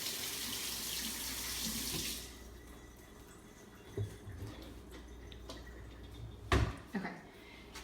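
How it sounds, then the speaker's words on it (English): Running tap water splashes steadily over hands at a kitchen sink for about two seconds, then stops, followed by a few faint drips and soft clatters. "I'm gonna like to wash my hands."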